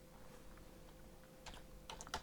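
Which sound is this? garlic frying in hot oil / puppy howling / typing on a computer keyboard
typing on a computer keyboard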